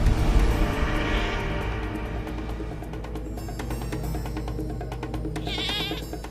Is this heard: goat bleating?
yes